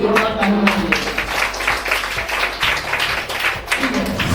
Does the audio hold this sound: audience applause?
yes